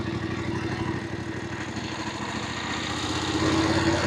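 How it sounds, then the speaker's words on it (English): A Voge 900DSX motorcycle engine idles close by with a steady, throbbing low rumble that rises slightly toward the end. "I can hear the engine ticking over"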